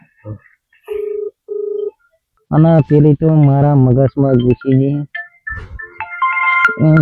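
A telephone rings with two short electronic tones, followed by a person speaking loudly. Further warbling ringtone notes come in under the voice near the end.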